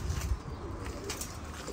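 Pigeons released from a loft burst into flight, their wings flapping in a brief close flurry of soft beats that fades within a couple of seconds.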